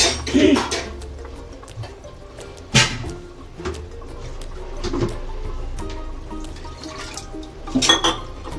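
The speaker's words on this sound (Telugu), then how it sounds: "ఇందులో కొంచెం వాటర్ పోసి" Water poured into chicken curry masala in a pan gives a brief liquid splash and drips, with sharp clanks of utensil against pan around it over a quiet kitchen background; no speech.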